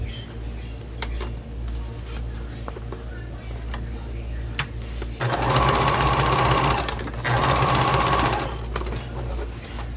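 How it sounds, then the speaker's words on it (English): Sewing machine chain stitching quilting fabric pieces one after another, two loud sustained bursts of rapid whirring stitching separated by a short pause, with faint ticks and handling noises around them. "Instead of cutting in between each piece, I just keep stitching."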